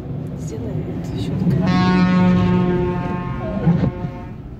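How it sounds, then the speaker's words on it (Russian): A deep, loud droning hum swells like a horn as a street cleaning machine passes close by in Quebec, fading slightly as it moves on. "Всего-навсего чистилка машинная проехала."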